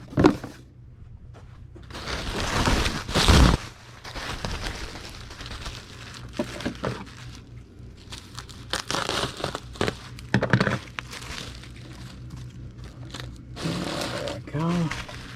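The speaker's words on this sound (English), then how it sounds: "we need to get a sheet of bubble wrap and cut it in half" A sheet of bubble wrap is handled and cut, giving crinkling and rustling bursts with sharp crackles scattered over about fifteen seconds, with someone speaking between the handling noises.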